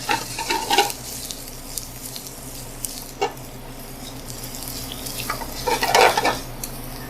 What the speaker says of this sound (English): You want to saute your onions and garlic for about 3 minutes